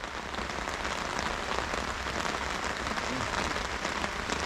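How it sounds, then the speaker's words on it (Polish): Heavy rain pouring down during a fishing trip on the Vistula River, a dense, steady hiss of drops drumming on surfaces, loud and close throughout with no talk. "Deszcz leje jak z cebra."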